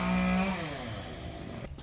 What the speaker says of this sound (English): Sorry about the noise. My neighbor's cutting his tree